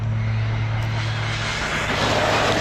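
An Arrma Kraton EXB 6S RC car makes a high-speed flyby, its electric motor whining loud and steady before the roar swells as it passes close.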